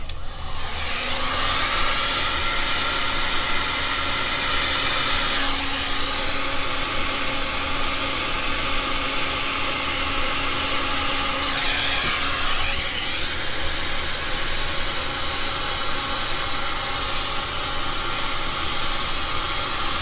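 A heat gun blows over resin paintings with a constant loud whooshing hiss and steady motor whine that runs unbroken for the whole stretch, with no speech.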